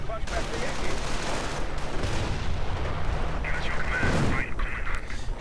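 Mortar rounds and gunfire thunder in a dense, continuous barrage during a WWII strategy video game battle, loud and rumbling, with a voice talking over the din.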